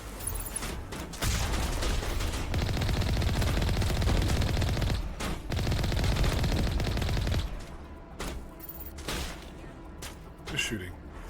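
Sustained automatic gunfire from a Mass Effect Legendary Edition firefight, dense and loud for several seconds, then breaking into sparser shots with someone talking over the game audio.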